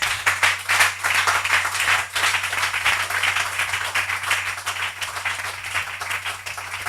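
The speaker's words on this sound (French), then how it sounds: "Donnez-lui une belle acclamation." A church congregation claps in steady, dense applause that carries on evenly through the whole stretch, a little distant and moderately loud, with no one speaking over it.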